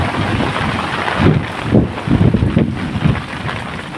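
Heavy rain driven by strong wind during a storm, heard as a loud, rough, continuous roar with gusty surges buffeting the microphone.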